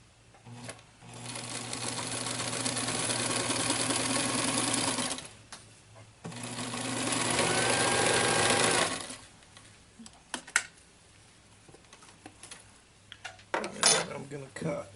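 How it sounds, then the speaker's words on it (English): A sewing machine stitches across the top edge of a denim pouch in two sustained whirring runs separated by a short pause, followed by a few light clicks and handling sounds near the end. "I'm going to run it through again across the top edge of the"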